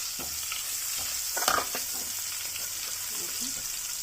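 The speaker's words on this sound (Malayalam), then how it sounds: "പച്ചമുളക് കൂടെ ഇട്ട് കൊടുക്കാം. അത്രയും അങ്ങ് വറുക്കേണ്ട ആവശ്യമില്ല പച്ചമുളക്" Green chillies frying in a pan for kadhi pakoda, a steady close sizzle with a few scraping stirs and a brief louder clatter midway, no talking.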